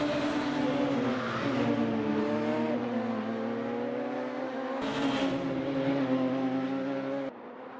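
Radical SR3 race cars at Road America, engines screaming close by at high revs with sustained harmonic whine, upshifts breaking the tone, and another car's drone layered underneath.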